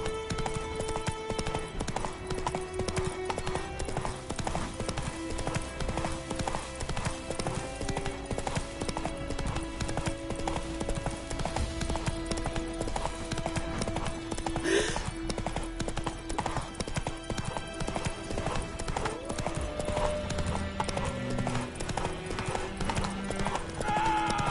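Roach, a horse in The Witcher 3 video game, gallops with rapid, steady hoofbeats throughout, set against game music and ambience, with a short neigh partway through.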